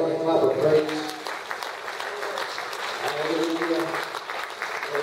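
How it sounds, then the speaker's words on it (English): Congregation applause in a church service, a steady wash of hand clapping from many people, with voices and singing-like tones mixed in underneath. "Would you give the Lord a hand clap of praise?"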